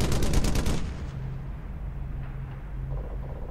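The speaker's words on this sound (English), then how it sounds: "Kid just shot another Nazi" Gunfire in the World War II video game Brothers In Arms: a loud, rapid burst of shots that fades into a rumbling tail and then low background noise.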